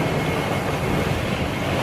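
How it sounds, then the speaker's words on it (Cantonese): Wind and rain outdoors near Naha Airport in Okinawa, a dense, continuous roar of wind buffeting the microphone with no clear pauses. "今日都有啲風雨喎"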